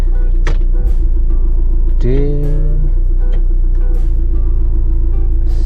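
Car engine idling steadily after the automatic gearbox is shifted into drive, a low continuous hum with a brief rising whine as the gear engages, following a rotor head and injector nozzle upgrade.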